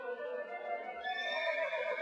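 A single horse, presented as the Roman emperor Caligula's racehorse Incitatus, gives a loud, close, quavering neigh that rises in pitch and lasts about two seconds, with no other sounds.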